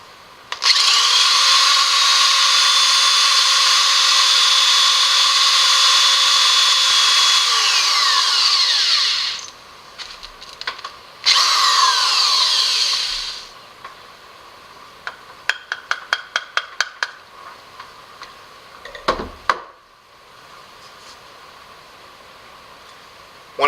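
A power drill bores into a piece of wood for a DIY sling bow, a loud steady whine for about nine seconds, then a short second burst, followed by scattered clicks and knocks.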